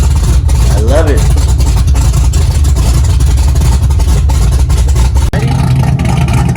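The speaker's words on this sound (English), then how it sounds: "Okay, just warming the car up now, letting the fluids run through it." A car engine fitted with an LSA supercharger and running on E85 idles while warming up, giving a steady, loud, low rumble throughout with a brief blip partway. Faint voices sound over the engine.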